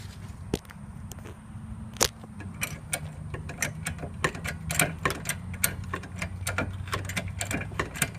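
A car jack ratchets a vehicle up off the ground for a tire change, giving a close run of sharp, regular mechanical clicks that grow quicker and denser over a low background.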